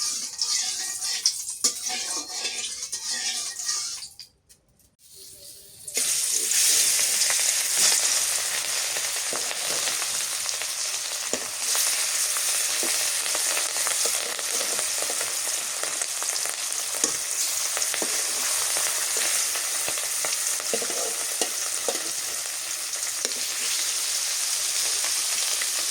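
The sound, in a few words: hilsa fish frying in oil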